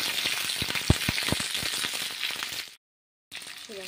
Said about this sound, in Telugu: చూడండి ఫ్రై అవుతున్నాయి నీట్గా